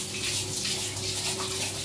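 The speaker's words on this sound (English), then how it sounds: "you wash your hands first" Hands washed under a running tap, a steady close hiss of flowing water with soft splashing that carries on evenly throughout.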